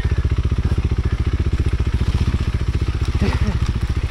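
KTM 390 Adventure single-cylinder motorcycle thumping off-road with a fast, even pulsing exhaust beat, close and steady throughout, with a brief clatter late on.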